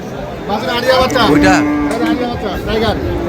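A calf moos once in a drawn-out, rising call amid a noisy livestock market selling dairy cows with calves, with people chattering in the background.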